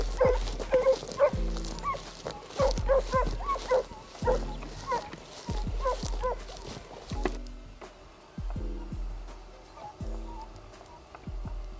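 Young Italian hounds (segugi) work a hare trail in open country in March, giving repeated barks, yips and whimpers at varying distances, loud and overlapping in the first half, then more scattered and fainter.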